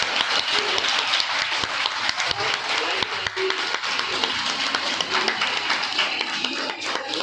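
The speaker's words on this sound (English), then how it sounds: "People are" Steady applause from a large crowd of school students watching the Chandrayaan-3 moon landing live, dense and continuous throughout, with a voice speaking over it.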